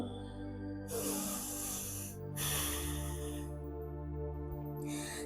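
Normal breathing in a yoga child's pose (Balasana): two long, airy breaths and the start of a third, heard close over a steady low hum.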